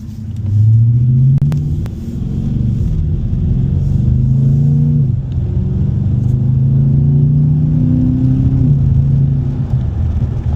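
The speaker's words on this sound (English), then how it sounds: "the intake pulling in more air" Inside a driving Dodge Challenger R/T fitted with a K&N drop-in air filter, a loud, steady engine and intake drone rises and dips as the car accelerates and shifts, with no talking.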